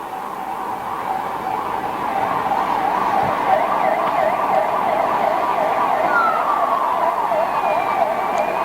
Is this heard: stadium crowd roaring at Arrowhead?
no